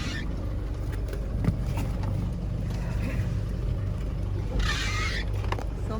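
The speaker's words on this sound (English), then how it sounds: "Okay, so we are now on the taxi ride." A continuous low road rumble inside a moving taxi in northern Belize, with steady engine and tyre drone and occasional bumps and rattles. A brief hissing swell passes near the end, with no clear talk.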